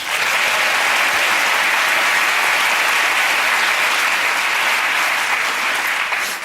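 Studio audience applause on a British comedy panel show greets a guest, Victoria Coren, as she is introduced; loud, dense, steady clapping fills the room for the whole stretch with no voices over it.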